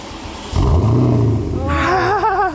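A Porsche Cayenne Turbo fitted with a new exhaust revs up with a loud, deep rumble that starts abruptly and holds steady, while a voice cries out in excitement over it toward the end.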